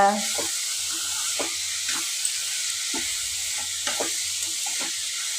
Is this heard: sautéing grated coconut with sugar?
yes